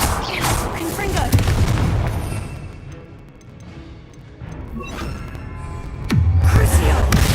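Spell blasts and crashing explosions from a Hogwarts Legacy fight come in loud bursts, with a quieter stretch in the middle before another heavy boom near the end.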